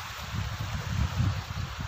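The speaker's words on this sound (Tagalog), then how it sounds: "Sarap ng hangin dito, malamig." A cool sea breeze blows at Half Moon Bay Resort beach near Dhahran, a steady, fairly faint low wind rush buffeting the microphone, with no voices.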